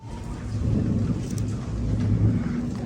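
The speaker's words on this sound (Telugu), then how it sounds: "ఉరుములు భయంకరంగా వస్తుంది" During a rainstorm, a deep, continuous rumble of thunder rolls on for the whole stretch, loud and low with a steady wash of rain or wind noise.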